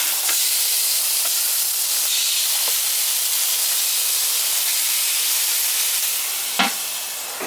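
Steak and several pieces of meat sizzle steadily in a hot pan, a dense continuous hiss close by with faint clicks, a brief louder pop of spitting fat near the end, no talking.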